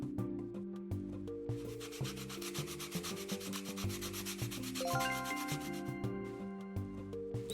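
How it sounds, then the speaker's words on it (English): A toy is rubbed down with a sanding block in Toy Tinker Simulator. Steady, repeated scratchy strokes play under looping background music. "And then we could do the sanding block next."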